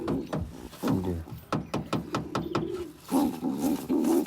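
Pigeons in a rooftop loft setup give repeated low cooing calls, mixed with a run of sharp clicks or claps and rustling, fairly close and steady through the stretch with a louder warbling coo toward the end.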